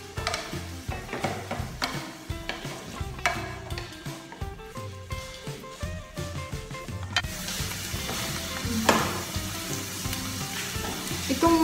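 Sliced onion frying in a pan during beef stroganoff preparation, a steady sizzle with intermittent stirring scrapes that grows denser and louder toward the end.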